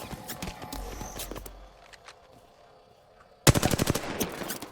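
Gunfire in the battle royale video game Apex Legends: rapid bursts of automatic shots, one steadier stretch of firing, then a sharp, loud volley near the end, with no speech.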